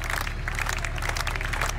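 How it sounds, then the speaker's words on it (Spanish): Mourners applauding as a coffin leaves a church, a dense, steady wash of many hands clapping at a moderate distance, with no voices standing out. "los fieles de la musa no escatimaron en aplausos"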